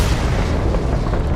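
Auto turrets firing in the space game Starfield, a dense continuous rumble of booming, artillery-like bursts with heavy low-end weight, steady and loud throughout.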